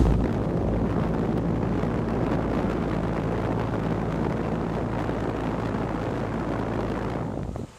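A 2010 Bryant 3-ton base model air conditioner condenser runs with a Genteq 1100 RPM fan, giving a steady, close whooshing roar over a low electrical hum that holds throughout before cutting off at the end.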